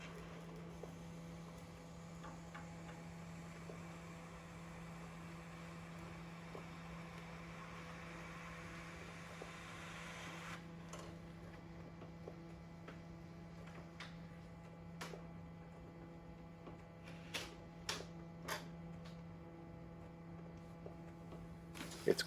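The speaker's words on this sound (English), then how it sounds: "What we're seeing now in sped up motion is the printer processing the job." A printer works through a print job with a steady low hum, soft and fairly distant, and in the second half a series of sharp mechanical ticks and clicks.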